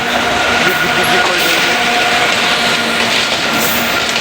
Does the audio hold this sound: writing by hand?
no